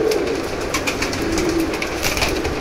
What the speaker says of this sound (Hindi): ये ब्रीडर गर्रा कबूतर है